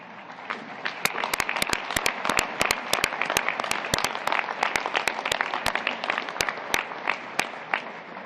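A full audience applauds two guests at a US Soccer event, with dense, steady clapping and sharp individual claps running unbroken throughout and no talk over it.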